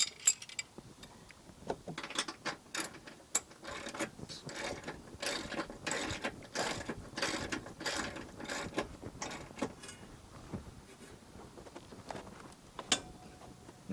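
A socket ratchet clicks rapidly in uneven bursts, close up, tightening a trailing arm bolt on the rear suspension of a 2013 Kia Sorento during a trailing arm replacement, with no voices.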